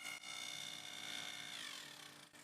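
A table saw cutting through pallet wood, giving a faint, steady, high whine that slides slightly as the blade finishes the cut.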